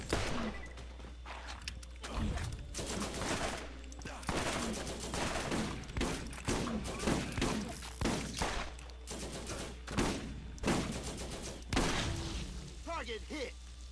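Rapid gunfire and booming shotgun blasts from a multiplayer shooter video game, dense and continuous across the clip while players talk over the shots.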